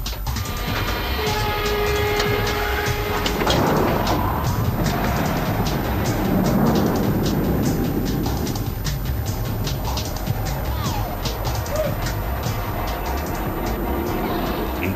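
Launch of the Prehistoric roller coaster, with a steady loud rumbling roar of the train and track running throughout, a whoosh building midway, and faint bird calls over the machinery.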